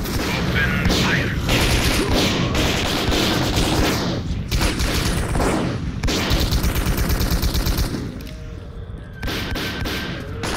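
Gunfire crackles through the video game S.T.A.L.K.E.R.: Call of Pripyat, played with 3D spatial sound, as loud rapid bursts and sustained automatic fire continue over several seconds, mixed with mechanical clatter and a few voices.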